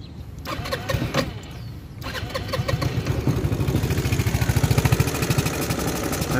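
A 2012 150cc motorcycle engine cranks and catches, then settles into a loud, close, smooth, steady pulsing idle.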